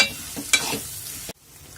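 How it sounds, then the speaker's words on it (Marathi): Okra thecha with salt being stirred and sautéed in a pan, a spatula scraping through a steady sizzle before it cuts off abruptly. "छान परत एकदा ह्याला परतवून घ्यायचं आहे"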